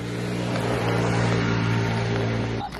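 A scooter passes close by on a road with a steady, loud engine drone and rumble that fades slightly at the end.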